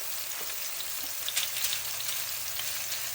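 Fish frying in a lightly oiled, foil-lined pan, a steady hissing sizzle with small crackling pops, fairly close and even throughout.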